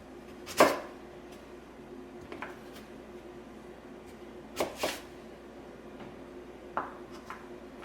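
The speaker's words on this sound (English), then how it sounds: "I want to cut these into, you can kind of see it better there, like planks" A knife cuts sweet potatoes into fry planks on a board, giving a few sharp, separate chops spaced seconds apart over a low, quiet room hush.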